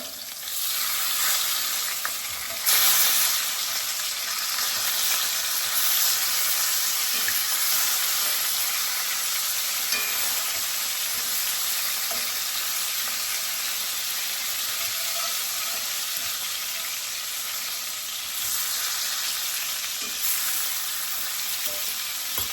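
Oxtails fry in a pan with a dense, even sizzle and crackle that runs unbroken and close throughout, with no voices.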